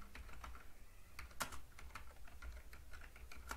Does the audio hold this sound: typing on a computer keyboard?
yes